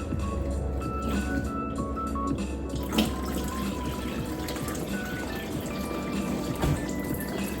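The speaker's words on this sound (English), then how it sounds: "I am going to water her thoroughly right now" Water pours steadily onto a houseplant in a self-watering setup during a thorough watering, a continuous close splashing trickle with a few louder splashes along the way.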